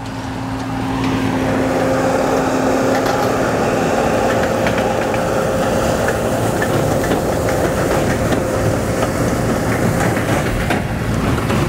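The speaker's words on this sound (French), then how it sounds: "Là derrière moi, John Deere 8100 avec une presse 1290 plus, un essieu" A John Deere 8100 tractor pulls a 1290 baler in a harvest field, a loud steady engine drone and rattling machinery building up after a second and holding constant nearby.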